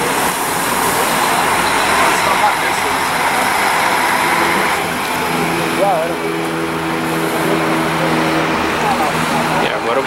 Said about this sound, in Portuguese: Vindo agora aí um carro da Pássaro Marrom na São Paulo, Taubaté.